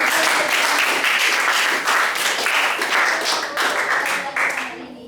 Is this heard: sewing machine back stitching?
no